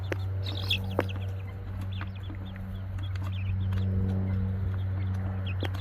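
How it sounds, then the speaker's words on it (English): Golden Wyandotte chicks cluck and peep softly in short scattered calls, nearby, over a constant low electrical hum. "these are our golden Wyandotte chicks from the Murray McMurray hatchery"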